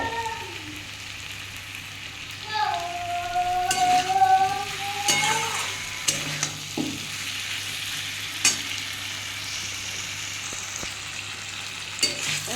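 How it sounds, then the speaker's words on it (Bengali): A salted soybean and potato mixture sautés in a pan, giving a steady sizzle with spatula stirring and scraping strokes that swell and fade over about twelve seconds, with no voices. "দেখুন বন্ধুরা এটা আমার কষানো হয়ে গেছে"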